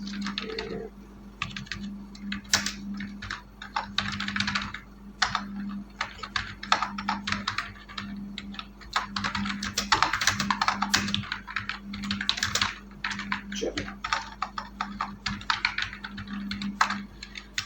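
Continuous typing on a computer keyboard while entering business card text in Adobe Illustrator, with rapid irregular clicks and short bursts of keystrokes running throughout, close and clear, with a low steady hum underneath.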